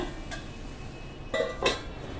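A metal lid goes onto a cooking pot of wild monsoon vegetable bhaji, a light clink followed by two close clattering knocks over a quiet kitchen background, no voices.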